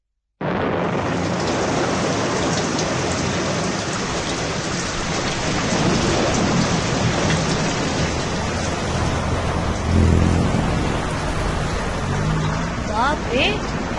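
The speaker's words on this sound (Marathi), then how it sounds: "बापरे, पाऊस वाढतच चाललाय." Heavy monsoon rain in Pune streets pours in a dense, loud, continuous hiss, with a low rumble of thunder swelling near the end.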